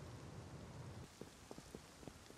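Rain falling in the survival game Rust on a snowy night, a steady soft patter that thins after a second into scattered distinct drops, quiet and alone with no voices.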